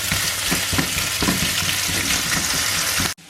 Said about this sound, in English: So that's the oil heated up now, so just adding the bacon. Smoked bacon.